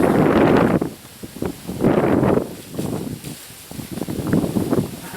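Wind blowing outdoors comes as several loud buffeting gusts that rise and fall irregularly against the microphone, separated by quieter lulls.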